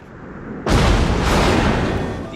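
Main battery guns of the North Carolina battleship firing in World of Warships, a single loud, close boom that cuts in sharply and then rolls on with a long rumbling tail.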